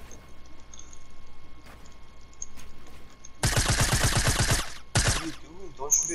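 Rapid automatic gunfire from a video game, a dense burst of about a second followed by a shorter second burst, loud and close after a stretch of quiet background.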